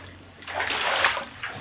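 Indoor flood water from heavy rain in a town sloshes and splashes through a store and room, swelling in the middle and again near the end, fairly quiet and with no talk.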